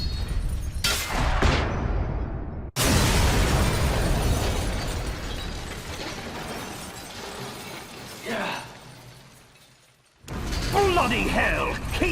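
The radome of the giant walking tank Metal Gear Rex is blown apart in Metal Gear Solid, a loud crashing explosion with shattering debris and mechanical clatter, followed by rumbling and a brief lull before the noise surges back.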